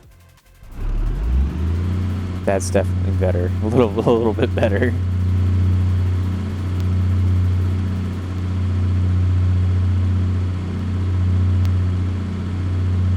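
A generator engine fitted with a new exhaust in BeamNG drives a steady low drone that swells and eases slightly, with someone talking over it briefly near the start.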